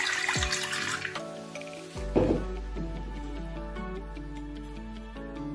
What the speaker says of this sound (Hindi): सबसे पहले हम अपने प्रेशर में 1 गिलास पानी डालेंगे।